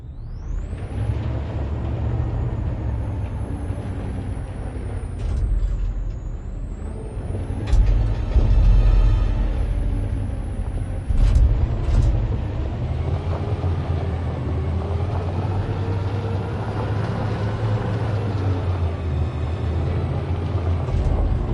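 Heavy truck driving in a video game, a loud steady engine rumble with rising and falling revs, sharp air-brake-like hisses and whines, and a couple of louder surges, with no talk.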